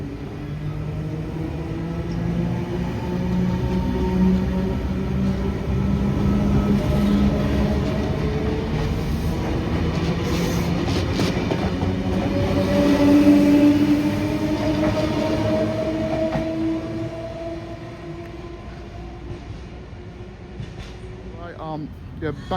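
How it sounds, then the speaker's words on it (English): A Sydney Trains V set pulls out of Penrith station for a Blue Mountains line service, with a steady rumble and rising motor tones that fade as it leaves. A voice speaks over the sound. "V2 now depart here at Penrith,"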